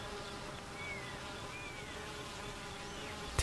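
Honey bees buzz steadily around the hive, a dense continuous drone with individual insects' whines drifting past, close and even in level with no voices.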